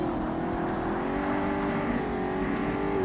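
Race car engine in Forza Motorsport, a Shelby Cobra Cup race on Xbox, held at high revs and pinned against the rev limiter in a loud, continuous, buzzing drone with slight pitch wavering.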